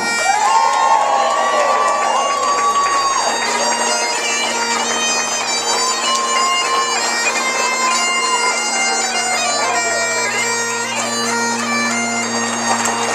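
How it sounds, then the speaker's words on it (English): Wedding guests cheer and whoop for a newly introduced bride and groom at a hotel reception, a loud, sustained burst of shouts and clapping with bagpipe drones and melody playing underneath. "Ladies and gentlemen, this time will you please cheer up this miserable day for a beautiful bride and groom, the name Mr. and Mrs. Miller."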